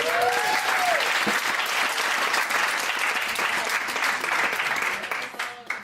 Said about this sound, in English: But I'll also give Peter one more round of applause.